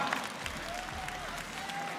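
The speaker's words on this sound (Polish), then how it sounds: "olbrzymie brawa dla obu zawodników" Fans at a KSW 92 MMA event keep up steady applause for both fighters after a close cage bout, a continuous wash of crowd clapping heard at moderate distance with a faint whining tone over it.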